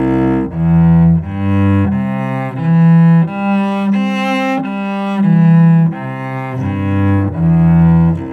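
A cello plays a two-octave arpeggio with slurred bows: about eight sustained notes climbing and then descending in smooth, connected strokes, close-miked and solo.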